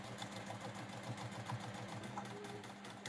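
A sewing machine back stitching through a fabric tissue basket, a steady fast-running whir throughout, faint and alone, with no talking.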